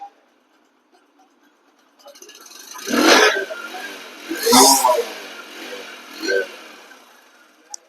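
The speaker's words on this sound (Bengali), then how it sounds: "এই বাইকটি চালিয়ে আপনাদেরকে দেখাবো এই বাইকটির সাউন্ড কন্ডিশনটাও" Used Bajaj Discover 125cc motorcycle engine revved three times in succession, two long throaty surges then a shorter one, close by after a quiet idle.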